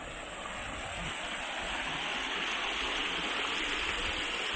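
Creek water flows below a pool at Blackberry Creek, a steady broadband rush that swells slightly and then holds constant, fairly close and with no talking.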